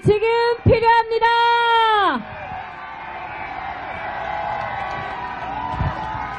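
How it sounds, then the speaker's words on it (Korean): A loud amplified voice rings out at a Korean political street rally, then a crowd roars and cheers in a sustained wash of voices that carries on at a distance to the end. "더 큰 함성이 지금 필요합니다."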